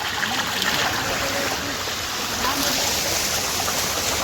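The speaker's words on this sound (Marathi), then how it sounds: "फुल स्पीडनं पाणी येतं एकदम पहाडावर" Steady, full rushing of fast-flowing, very cold water in a mountain stream on the Kedarnath trek, close and continuous with no pauses.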